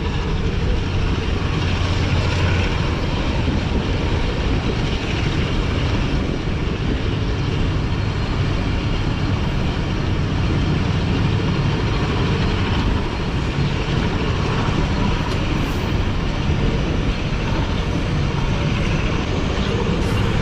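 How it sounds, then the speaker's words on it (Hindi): Allama Iqbal Express rolling through Malir railway station, a steady loud rumble of wheels and carriage noise that holds constant throughout without a break, heard from on board. "जहाँ से ट्रेन PLC लेते हुए गुजर रही है"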